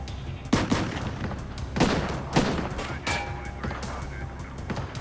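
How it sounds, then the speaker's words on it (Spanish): Gunfire exchanged between a shooter and agents: a few sharp, loud shots spaced irregularly over a noisy background, with no speech. "Ahora McClane le estaba disparando a los dos lados."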